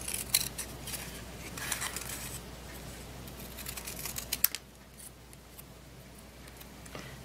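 Scissors snipping through paper to cut out printed words, a rapid run of crisp close cuts that stops partway, leaving only a faint background after.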